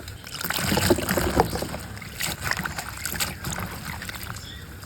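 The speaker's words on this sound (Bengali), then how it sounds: "শাপলা ফুলের ডাটাগুলো ছুলে নিয়েছে তো এবার সুন্দরভাবে ধুয়ে নেব" Water lily stems are swished and rinsed by hand in water, a close, continuous splashing and trickling with soft irregular sloshes, no voices.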